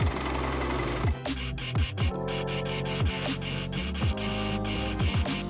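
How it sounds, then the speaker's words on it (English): An overlocker serger sewing machine finishing the raw edges of fabric for an off-shoulder bell sleeve top, running in a steady mechanical whir with repeated stop-start bursts, loud and close, with no talking. "I then overlocked the remaining raw edges."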